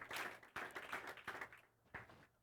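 Applause offered to God during a church service: a few short bursts of clapping from a congregation, rising and fading in waves over a couple of seconds, fairly soft and somewhat distant.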